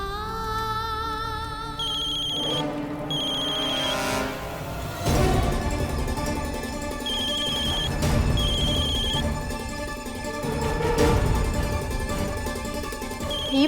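A mobile phone plays a melodic electronic ringtone, loud and continuous throughout, with repeating tone patterns over a busy background.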